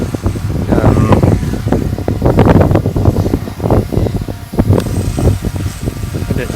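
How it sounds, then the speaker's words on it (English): Strong wind at a lake valley buffets the microphone in loud, rough gusts that rise and fall constantly. The roar is broad and close, with no voices. "Let me show you how strong it is, the wind around here."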